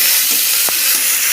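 Kochur loti (taro stolons) sautéing with spices in a pan, a loud steady sizzle and hiss close up, with a brief stirring scrape in the middle.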